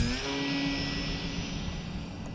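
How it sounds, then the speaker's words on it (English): A small 3D foam radio-controlled model airplane flies overhead, its motor giving a steady whining drone that holds at a moderate distance throughout, with no voices. "Man, this plane is a riot."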